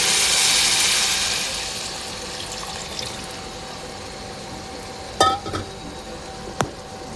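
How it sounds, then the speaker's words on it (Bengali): Water poured into a pan of fried rice in a home kitchen, a loud rushing hiss at the start that fades into a low simmer, followed by a few sharp clinks of a utensil. "পানি দিয়ে দিলাম।"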